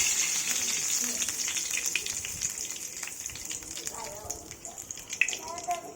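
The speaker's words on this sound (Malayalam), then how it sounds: "അപ്പോൾ വെളിച്ചെണ്ണ ചൂടാൻ ശേഷം നമുക്കതിലേക്ക് ഒരു 3 തണ്ട് കറിവേപ്പില ചേർത്ത് കൊടുക്കാം." Curry leaves sizzle in hot coconut oil, a steady broadband crackle and hiss that runs throughout with scattered pops near the end, fairly close but moderate in level.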